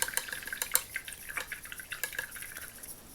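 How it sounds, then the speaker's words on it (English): Small wet splashes and drips close by, as a paintbrush is dipped and swished in water, irregular and fairly quiet. "really load up the brush with a load of water"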